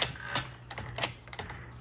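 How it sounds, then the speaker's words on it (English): A 1946 Sterling Speedline manual typewriter clacks through a quick run of keystrokes, sharp irregular strikes close up with no voices. "I love this typewriter"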